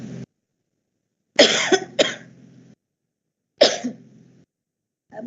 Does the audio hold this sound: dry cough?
yes